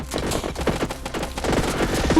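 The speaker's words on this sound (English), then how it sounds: "our shotgun is gonna fire at an even longer cone now" A shotgun fires repeatedly in the sci-fi shooter game Alien Slayers. The blasts come in rapid, overlapping bursts, close and loud, forming a dense fusillade-like rattle over roughly two seconds.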